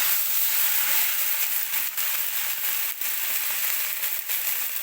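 Boiled durian flowers hit hot oil in a pan and sizzle loudly and continuously at close range, a dense steady frying hiss with slight dips.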